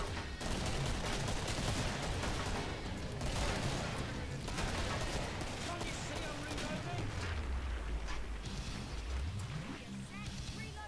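Dense video game battle gunfire forms a continuous crackling fusillade with booms, while commentators talk over it throughout.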